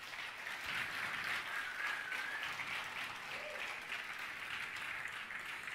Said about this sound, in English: please give all participants a big round of applause